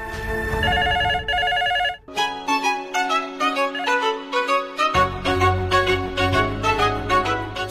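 A phone ringtone plays loud and close, beginning as a repeating electronic ring and then turning into a melodic tune with pulsing notes. There is no talking.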